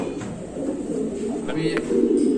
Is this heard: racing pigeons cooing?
yes